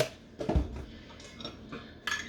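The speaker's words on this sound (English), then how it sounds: "Y'all see I'm stirring it up right here." A utensil clinks and scrapes against a bowl while sugar is stirred into a yeast mixture for bread dough, with a few close, irregular taps and scrapes.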